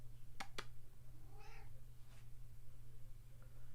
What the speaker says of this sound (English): Being scolded by my cat.